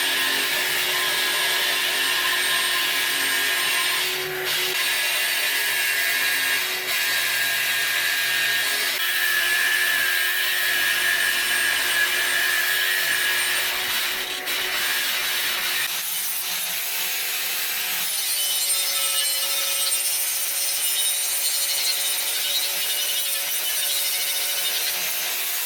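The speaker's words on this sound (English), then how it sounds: "I'm going to put a vacuum in it while I'm cutting it to try to keep some of the material out of it." Metal outlet being cut on a tube-front V8-swapped Ranger with a vacuum running inside it, giving a steady loud grinding rasp over a constant whining hiss that shifts tone partway through.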